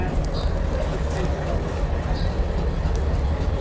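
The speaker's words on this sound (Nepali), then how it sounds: "गाइज यहाँ चाहिँ कलकत्ता बालुरघाट एक्सप्रेस लागिरहेको रहेछ" Kolkata–Balurghat Express standing at a station platform, a steady low rumble and hum of the train mixed with busy platform noise throughout.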